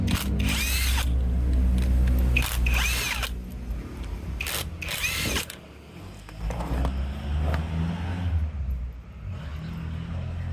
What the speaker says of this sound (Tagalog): Tanggalin nyo lang tong tatlong tornilyo na number 10.